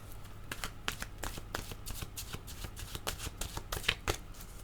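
Oracle cards are shuffled by hand in a steady run of soft riffling flicks and slaps, close and fairly quiet, with no talk, over a faint low hum.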